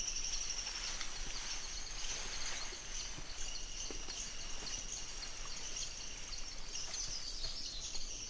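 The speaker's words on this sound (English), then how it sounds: "There is bird songs and frog calls." Faint, continuous chirping and trilling in the wild Makay of Madagascar, bird song layered with insect-like calls in a quiet, distant outdoor ambience with no talk.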